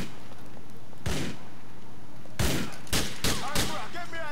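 Gunfire in the video game Grand Theft Auto IV: a single loud shot, a pause, then a quick cluster of four sharp bursts close together, over a low background hum.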